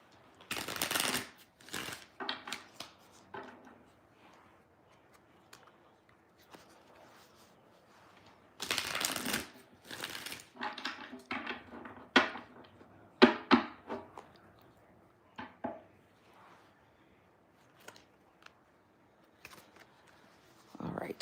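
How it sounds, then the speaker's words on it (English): Tarot cards being shuffled at a table in bursts of riffling and flicking, with quiet pauses between, close and moderately loud, a voice speaking now and then between the shuffles. "All right, last shuffle."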